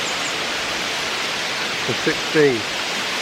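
A waterfall in the Northern Black Forest pours in a steady, full broadband rush through the whole stretch, with a short spoken voice rising over it near the end.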